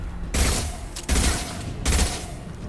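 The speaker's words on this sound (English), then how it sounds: "Firing a high-impact shot." Three heavy bursts of video game gunfire ring out in a quick uneven sequence, each loud, close and booming, separated by brief gaps, with no voices.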